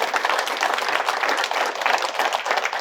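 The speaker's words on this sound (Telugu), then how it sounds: "ఆ బృందానికి అందరికీ గట్టిగా చప్పట్లు కొడదాం" A seated audience claps loudly and steadily, a dense, even wash of many hands with no pauses, heard close and without talk.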